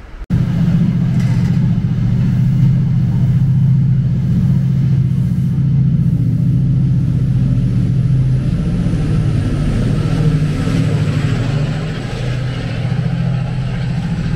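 Oxford Flyer coach running nearby at a car park, a loud sustained low engine rumble that holds steady, then eases slightly near the end.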